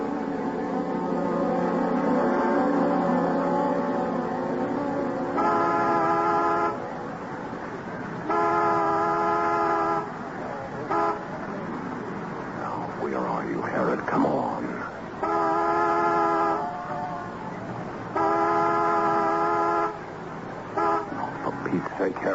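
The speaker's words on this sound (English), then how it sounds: "honk the horn as a reminder. Make it 2 long, 1 short." A car horn honks in a two long, one short pattern, sounding several times over a running engine, fairly loud and close, with people talking between the honks.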